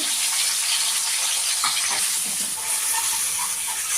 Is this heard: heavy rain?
no